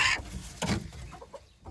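A brooding hen sitting on eggs gives a few short soft clucks and a brief squawk, close by and fairly quiet, with no talking.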